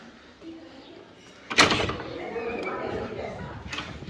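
A car door swings shut at a family birthday outing, a single sharp thud partway through, followed by rustling and movement while background voices murmur faintly.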